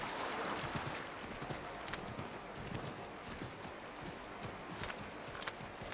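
Horse hooves clip-clop steadily in the Assassin's Creed 3 video game, a continuous rapid rhythm of close knocks over a broad rushing background wash.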